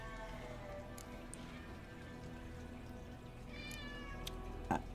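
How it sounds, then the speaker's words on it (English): A cat in The Witcher 3 gives a short meow near the end, heard faintly over a steady low game ambience with no talking. "Go away, cat."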